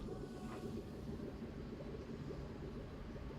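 Roller coaster train pulling out of the station in Planet Coaster 2, a faint steady rumble and clatter of wheels on track throughout, with no talking.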